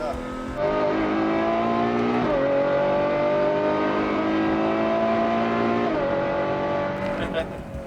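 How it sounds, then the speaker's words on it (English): A V12 Ferrari engine roars steadily with rising and falling revs, loud and close throughout, driven hard in a canyon. "I'm driving a V12 Ferrari in the canyon."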